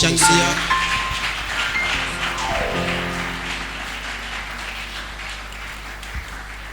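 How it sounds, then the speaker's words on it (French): A church congregation claps and cheers loudly after a prayer, with a burst of applause that starts strong and slowly fades while some organ or keyboard tones ring underneath. "J'aimerais qu'on acclame très fort."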